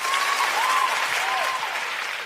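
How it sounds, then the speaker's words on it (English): Sustained audience applause, a dense wash of clapping that continues throughout and tapers slightly at the end. "Can we please give another round of applause for that?"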